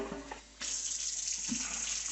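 Water runs steadily to rinse dirty .223 brass cartridge cases and pins after wet tumbling. A brief quieter start gives way to a continuous, close, hissing rush of splashing water that fills the rest of the moment.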